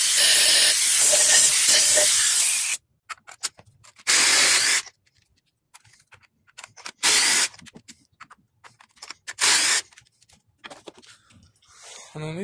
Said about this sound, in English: I'm going to go ahead and spray out these cylinders